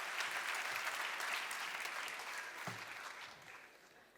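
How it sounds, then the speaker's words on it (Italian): Warm applause from a theater audience at a live Neapolitan song concert, steady clapping that fades gradually toward the end. "tributiamole il giusto e meritatissimo applauso"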